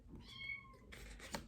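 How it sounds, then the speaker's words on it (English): A young kitten indoors gives one drawn-out meow, faint and in the background, followed by a soft rustle. "you might hear my kitten in the background"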